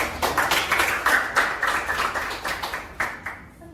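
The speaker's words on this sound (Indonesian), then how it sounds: "kita kasih tepuk tangan dulu untuk semuanya." A classroom of students claps their hands after a history lesson assessment, a loose burst of individual claps with audible separate hits, fairly close and moderate in level, tapering off toward the end.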